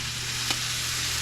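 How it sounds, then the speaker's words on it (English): Rice fries in oil in a pan for a local paella in a village on Mallorca, Spain, a steady close crackling sizzle with one brief stir in the middle. "So when you fry it, you are sealing the grain."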